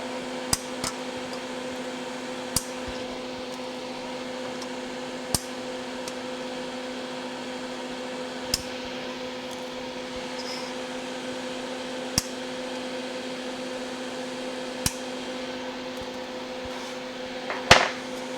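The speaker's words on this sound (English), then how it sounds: "I will trim these component leads" Knipex side cutters trimming component leads on a circuit board, a series of sharp isolated snips spaced a few seconds apart over a steady low electrical hum.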